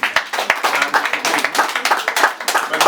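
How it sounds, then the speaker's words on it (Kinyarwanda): Audience clapping at a baptism ceremony in Rwanda, a dense, steady patter of many hands applauding together, fairly loud and close, with faint voices mixed in. "twongere tubahe amashyi koko"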